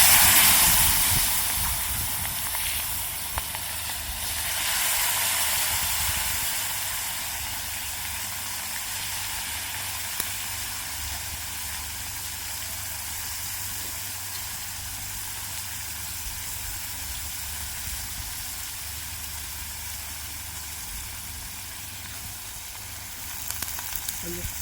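Onions and curry leaves fry in hot oil in a pan, giving a steady, close sizzle and hiss that carries on evenly with no talk.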